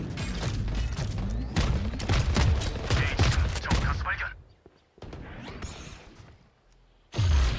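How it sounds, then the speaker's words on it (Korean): Rapid missile barrage in Valorant competitive play: a dense run of loud, overlapping launches and blasts for about four seconds, then a quieter stretch of scattered shots before another burst near the end. "모든 미사일 발사"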